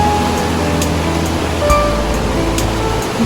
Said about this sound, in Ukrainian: Дуже потужна зараз річка.